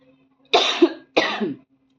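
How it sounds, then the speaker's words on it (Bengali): Two short, harsh coughs from an adult, close by, about half a second apart, in an otherwise quiet room with a faint low hum. "আমার একটু কাশি হয়ে যাচ্ছে"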